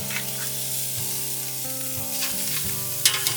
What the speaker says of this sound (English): It is nice and hot, as you can tell by the sizzle